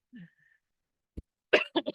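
A few short coughs, a single sharp one followed by a quick pair close to the mic, after a faint brief vocal sound, otherwise quiet.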